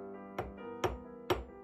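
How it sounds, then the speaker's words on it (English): Three light, evenly spaced metallic taps ring out as a silver wire link is hammered on a steel bench block, each strike close and bright with a short ringing decay. "I lightly hammer it with my other bench block."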